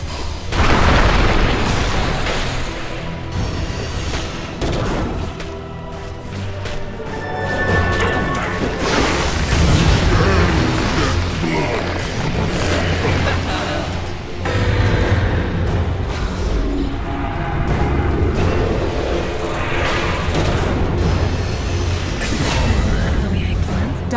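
Dota 2 gameplay, with explosions and crashing impacts from an attack on a tower, booming and dense throughout, layered over continuous game sounds and music.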